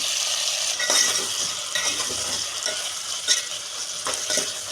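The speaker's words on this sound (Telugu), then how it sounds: "మీడియం ఫ్లేమ్లో పెట్టి కలపాలి ఉప్పు టమాటాలు కొద్దిగా కొత్తిమీర" Tomatoes and salt cook in a pan over medium flame for sorakaya dalcha, with a steady sizzle broken by several distinct scraping stirs of a spoon against the pan, close and fairly loud.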